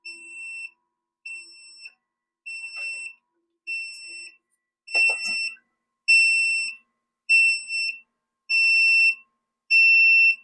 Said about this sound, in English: So the alarm works, so that's good news.